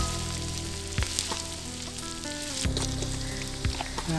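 A ginger and garlic mixture fries in a pan for kangkung egg fried rice, giving a steady, soft crackling sizzle broken by a few sharp clinks and stirring knocks.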